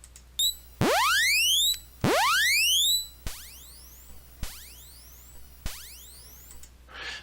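Rising electronic chirp sweeps from a Commodore 64's 6581 SID chip, with bright harmonic overtones, a couple of long held ones followed by three short sharp ones, clean and synthetic against a faint hum.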